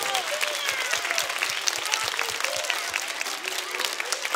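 A theatre audience at a children's cantata applauds the teachers with a full, continuous round of clapping, with cheerful whistles and calls rising through it.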